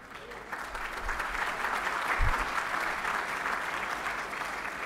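A room full of people claps steadily for several seconds, a dense even applause heard from within the audience.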